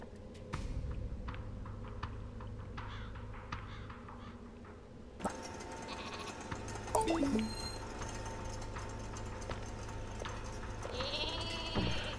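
A sheared sheep bleats in a short wavering call in the PS4 game Flockers, over a steady bed of game music and ambient effects, with other electronic sounds joining partway through.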